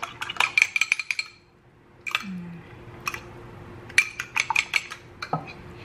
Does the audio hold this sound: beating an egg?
yes